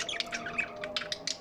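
Budgerigar parrots at a bird exhibition chirp constantly in a busy, rapid chatter of overlapping tweets close by.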